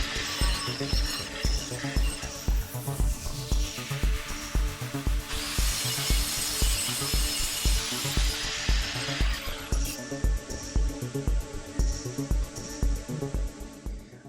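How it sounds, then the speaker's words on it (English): A grinder works steadily on a metal patch panel for a Triumph Spitfire wheel well, a continuous close buzzing with a rhythmic pulsing as the disc moves across the steel, with pitch shifts partway through. "I'll take the grinder, and I can grind that down nicely"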